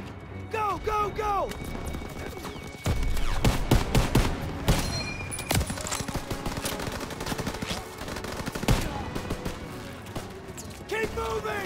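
Rapid machine-gun bursts and scattered gunshots rattle through a WW2 video game battle at a barn, loud and sustained across the clip, with shouted voices mixed in among the firing.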